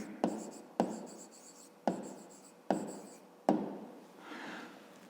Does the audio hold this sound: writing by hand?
yes